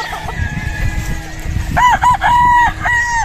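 A pure Goldenboy brood stag rooster crows loud and close, a clear cock-a-doodle-doo in several harmonic bursts after a stretch of low background rustle.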